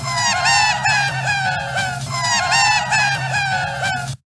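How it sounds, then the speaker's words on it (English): A Beatles tape loop of Paul McCartney's laughter, sped up until it sounds like a seagull: repeated cawing, honking cries in two similar bursts over a low steady drone, loud and up close. "Here's a loop of Paul laughing, sped up to sound like a seagull."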